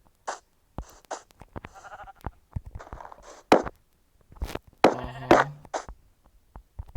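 Sheep bleat in a Minecraft survival world among footsteps and small game sounds, with a few short, separate bleats, the loudest one near the end.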